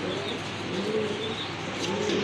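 Racer pigeons coo at a pigeon seller's stall in a continuous, soft, throaty murmur close by. Faint chirps are mixed in and no one speaks.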